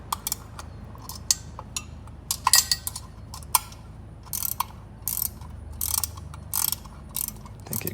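A ratchet with a 10mm socket turns a bolt on a 2016 Hyper Blue Subaru during an AVCS solenoid cover install, giving bursts of close, crisp clicking with short pauses between the runs.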